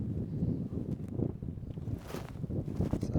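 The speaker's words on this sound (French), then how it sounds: "y a beaucoup de vent" Strong wind buffeting the microphone beside a fishing pond, a continuous low roar with gusty surges and no voices.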